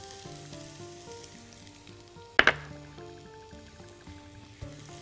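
Onion goes into a hot pan for a chicken samosa filling and sizzles softly. A sharp burst of crackle comes as it hits the oil, then a low, continuous fry follows.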